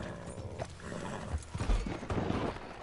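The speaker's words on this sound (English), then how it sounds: "Get on the horse!" Horse hooves clip-clop in Red Dead Redemption 2 online, with a whinny rising partway through; the steps are fairly quiet and steady with no talking over them.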